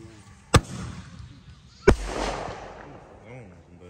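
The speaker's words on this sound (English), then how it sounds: "Oh, that's one of the mortars." Two sharp mortar firework bursts at a Fourth of July backyard gathering, the second followed by a rumbling crackling tail; voices talk faintly between them.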